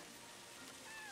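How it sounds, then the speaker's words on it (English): A small cat meows in the adventure game Yonder: The Cloud Catcher Chronicles: a faint, brief, high cry over a steady hiss of rain-like ambience. "That's a cat! Hey,"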